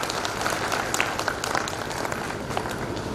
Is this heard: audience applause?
yes